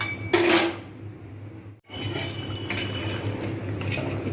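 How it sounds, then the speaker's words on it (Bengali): Shyamadana khichuri is stirred in a pot, a metal spoon clinking and scraping against the vessel in a loud opening rattle, then softer, steady scraping over a low background hum. "এবার বেশ কিছুক্ষণ নাড়বো"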